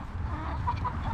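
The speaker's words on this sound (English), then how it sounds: "Go out here and let these chickens out." Chickens clucking softly in a backyard coop as they wait to be let out, a steady low murmur of several birds with a few brighter clucks.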